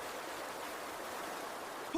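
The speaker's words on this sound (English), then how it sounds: "Only the sound of roaring water remains." Water roars as it rushes through a pipe in an animated story about ants: a steady, loud, hissing torrent without pause, ending in a short bright tone.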